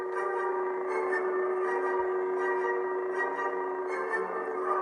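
A steady electronic lightsaber hum from an Ultrasabers Menace SE drones continuously as a loop, with faint higher flutters drifting in and out; nobody speaks.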